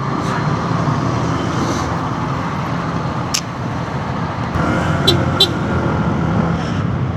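Road traffic on a coastal road near Davao makes a continuous rumble of passing vehicles, loud and close, with occasional faint high tones over the steady noise.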